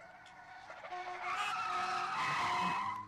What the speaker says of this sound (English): It's the comforting sound of my safety skid brakes with patent-pending safety squeal technology